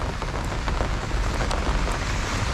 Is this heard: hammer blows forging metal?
no